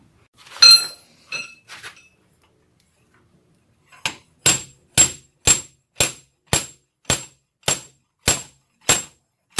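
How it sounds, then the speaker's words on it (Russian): A few scattered knocks, a pause, then a steady run of about twelve sharp hammer taps on a wooden block, evenly spaced and close, with no talking, driving out a Ford Escape CV joint drive shaft. "Поставили деревяшку, аккуратненько постучали молотком, он привод и выйдет"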